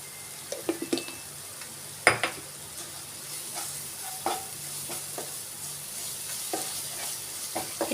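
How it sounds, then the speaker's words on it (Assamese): Kadhai paneer masala sizzles in hot oil in a pan, with a steady quiet fry under scattered scraping clicks of a spoon stirring against the metal. "এতিয়া মই খুব ভালদৰে লৰাই ল'ম আৰু লৰাই থাকিম যেতিয়ালৈকে তেল বিৰিঙি নাহে।"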